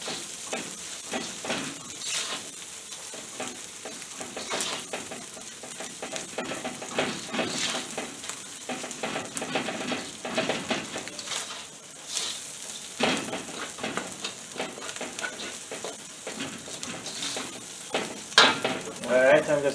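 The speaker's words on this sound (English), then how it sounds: "Alright, adding all of this to it and stir." Ginger and onion sizzle in a hot pan while a utensil stirs and scrapes them, giving repeated knocks and clatters over a steady frying hiss, close and moderately loud.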